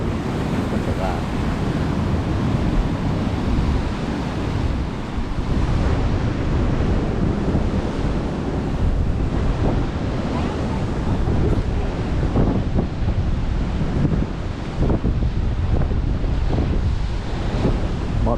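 Sea waves slosh against a harbour pier wall in strong wind, a steady close roar of surf and buffeting wind on the microphone running throughout with no break.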